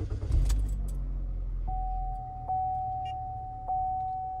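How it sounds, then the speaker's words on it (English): A car's ignition is switched on with the key: a brief jangle of keys on the ring, followed by a steady electronic chime or tone with a couple of soft clicks, in a quiet interior. "Turn the ignition on."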